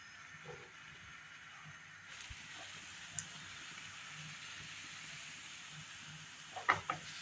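Masala samosa filling cooking in a hot pan, a soft continuous sizzle with a few faint stirring clinks and scrapes, quiet and close.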